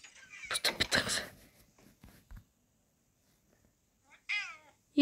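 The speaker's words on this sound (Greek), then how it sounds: "Η γατούλα." A small cat meows a couple of times indoors, with bright, wavering cries near the end after a burst of louder noise and bumping at the start; fairly close and distinct.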